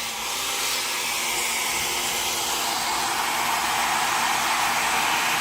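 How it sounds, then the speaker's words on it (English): A hair dryer blows steadily at close range, a loud constant whooshing hum that never lets up. "I have a hairdryer plugged in."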